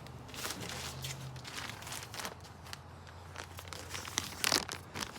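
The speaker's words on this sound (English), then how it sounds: "Little zip packaging there." Crinkling plastic zip packaging around a new camo seat cover for a Kawasaki Mule 610 XC utility vehicle, close and handled in irregular rustling bursts with a louder crackle near the end.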